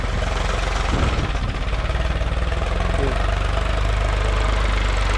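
Three-cylinder engine of a used grab truck with a rear double-arm grab, rated at sixty-eight horsepower, idling steadily and close by with a low, even chug throughout.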